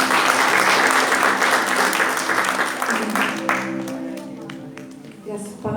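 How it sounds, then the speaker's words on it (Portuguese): A church congregation applauds during a Baptist worship service, a dense, steady wash of clapping that fades toward the end as a voice and musical tones emerge underneath. "Aplauda ao Senhor,"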